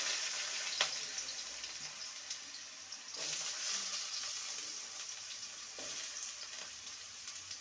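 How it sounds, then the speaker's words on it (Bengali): Thin, long strips of potato fry in hot oil with a steady, close sizzle and crackle, interrupted by a few sharp pops and the clatter of stirring. "তেলটা গরম হয়ে গেছে প্রথমে লম্বা লম্বা সরু করে আলু কেটে নিয়েছি কুঁদরির মতন করে আলুটাকে ভেজে নেব"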